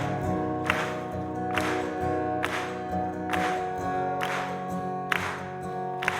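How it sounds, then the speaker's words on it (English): A concert crowd at a show at the Palladium in London claps in time, with sharp claps at a steady beat of about one per second over sustained music. "we're gonna keep clapping"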